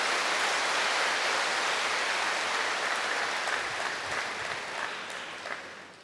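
A large audience at a spiritual lecture applauds loudly and steadily. The dense clapping holds for several seconds, then thins and fades toward the end.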